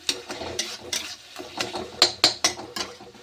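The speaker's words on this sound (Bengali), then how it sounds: "দেখো ভালো করে আমি নেড়ে নিচ্ছি" A spoon stirs pea and potato curry in a pan, producing several separate scraping strokes in an uneven rhythm over a soft, close sizzle.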